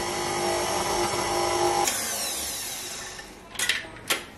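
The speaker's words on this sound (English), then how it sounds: "I'm going to whip it using the stand mixer" A stand mixer whips cream for a mixed berry birthday cake, running as a loud steady whirring hum that slows and winds down partway, followed by a couple of sharp clinks.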